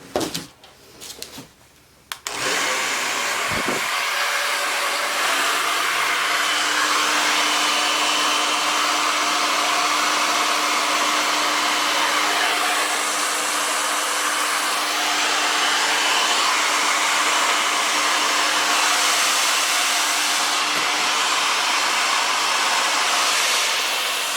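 An electric air blower, apparently a hair dryer, pushes air over acrylic Dutch pour paint. It starts after a few handling clicks, then runs as a loud, steady close-up whoosh with a faint whine and no voices.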